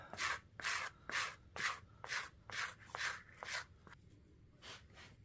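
Hand sanding on a handmade doll smooths out bumps with about ten rhythmic back-and-forth scrapes, close and fairly quiet, spaced roughly half a second apart with short pauses between strokes.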